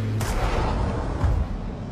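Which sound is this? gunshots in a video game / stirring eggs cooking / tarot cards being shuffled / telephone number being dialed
gunshots in a video game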